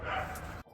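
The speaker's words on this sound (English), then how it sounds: "Dogs are going crazy." Dogs barking and yipping outdoors in a quick burst, close and fairly loud, with a voice talking over them before the sound cuts off.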